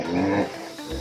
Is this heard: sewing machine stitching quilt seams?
no